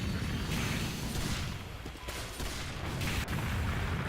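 Gunfire on the Team Fortress 2 Sawmill map, a rapid, dense barrage of shots and mechanical clatter mixed with booms, sustained and somewhat distant-sounding under busy match noise.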